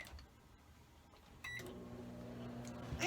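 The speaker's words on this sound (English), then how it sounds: "wrap your little sandwich in a wet paper towel and stick it in the microwave" A microwave oven runs with a steady low hum, heating a sandwich wrapped in a wet paper towel; the hum starts partway through and grows slightly louder, with faint clicks and a brief rising tone near the end.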